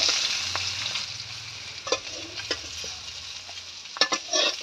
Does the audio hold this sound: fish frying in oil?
yes